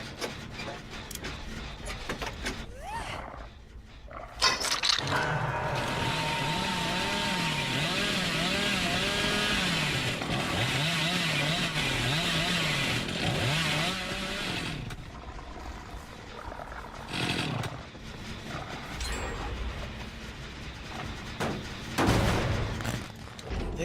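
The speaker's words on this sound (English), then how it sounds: "Reborn trying to juke out Griff, but doesn't succeed once he gets the chainsaw hit on him." A chainsaw hit lands in the Dead by Daylight game, a sustained revving saw drone with a wavering pitch that runs loud for about ten seconds, then drops away into quieter game sounds.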